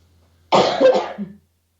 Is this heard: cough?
yes